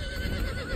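A horse in the video game Conan Exiles gives a short loud neigh, a brief whinny that sits inside dense game sound.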